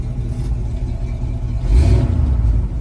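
A 1969 Buick Special Deluxe with a bent driveshaft idles with a loud, close rumble, then its engine revs up briefly near the middle and settles back down.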